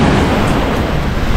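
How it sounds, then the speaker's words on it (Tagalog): Strong ocean waves roar at a beach resort, a loud continuous rushing surf dominated by heavy wind buffeting on the microphone. "lakas ng alon dito"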